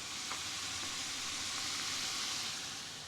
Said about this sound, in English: stir all of that up.